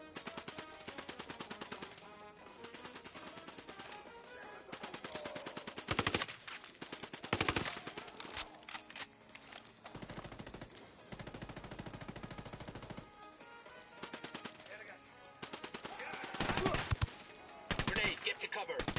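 Bursts of rapid automatic gunfire and single shots in the video game Ghost Recon, loud and close, broken by short pauses across a tactical firefight.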